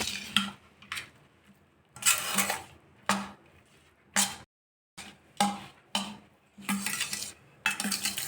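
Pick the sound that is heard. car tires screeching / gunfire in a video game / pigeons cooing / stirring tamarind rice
stirring tamarind rice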